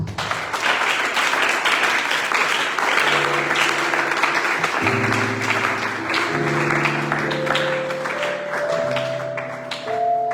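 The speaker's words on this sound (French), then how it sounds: "Je voulais qu'on acclame la pour cette parole." Church congregation applauding after a sermon, steady clapping throughout while sustained organ or keyboard chords rise underneath.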